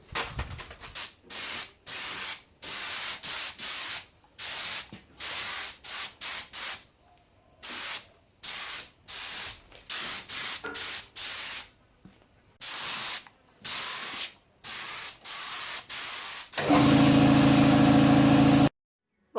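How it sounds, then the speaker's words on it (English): Bursts of aerosol spray as clear coat paint is applied to car parts, repeated short hisses separated by brief pauses, close and loud, ending in a longer continuous spray. "I've just given them another coat of clear."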